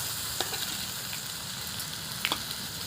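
Taro with ground shrimp paste and spices fries in a pan, a soft steady sizzle with a couple of faint clinks and scrapes of stirring, quiet and close, no talking.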